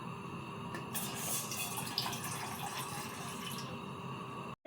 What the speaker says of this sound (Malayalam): വെള്ളം എടുത്ത് നമുക്ക് ഒഴിക്കാം